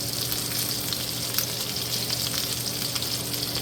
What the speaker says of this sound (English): let's turn our meatballs over